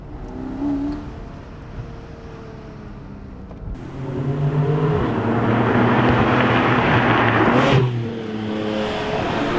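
A Porsche 718 Boxster GTS 4.0 engine accelerates on a tight road, its tone rising through the revs, then a gear change, then a strong sustained roar, heard loud from inside the car.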